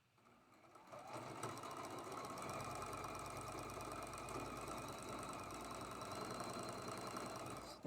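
A sewing machine stitches a connecting seam on a quilt block, starting up and then running in a fast, steady mechanical chatter, close and continuous.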